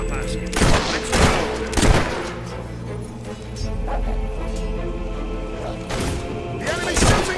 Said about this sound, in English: The enemy's shooting at us!